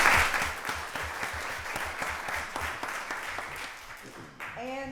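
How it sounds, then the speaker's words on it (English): Applause at a county board of commissioners voting session, a steady room-filling wash of many clapping hands that runs for several seconds, with a brief voice surfacing near the end. "That deserves a round of applause."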